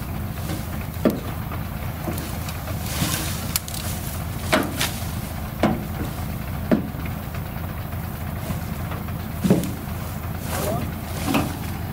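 A car engine runs steadily nearby outdoors while tree branches are hauled away, a low continuous rumble with wind buffeting and occasional sharp knocks and rustles.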